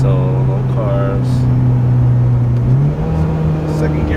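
A turbocharged 300 whp Mitsubishi Lancer GT Ralliart with all-wheel drive, in S-Sport mode, making a short pull: a steady, loud engine drone heard from inside the cabin, rising in pitch partway through, with a voice over it.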